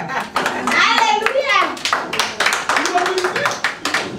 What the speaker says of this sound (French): Ça mérite un beau applaudissement.